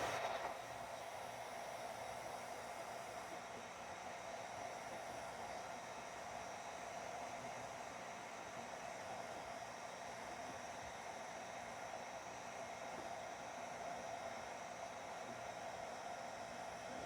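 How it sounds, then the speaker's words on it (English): A heat gun blows steadily while embossing holiday place cards, a continuous even whooshing roar that runs close and loud for the whole stretch with no talk over it. "Now I'm going to use my heat gun again."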